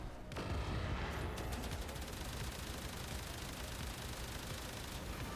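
Sustained, loud gunfire in the space combat of Warframe's Railjack mode, a dense unbroken barrage of shots that fills the whole stretch with no speech over it.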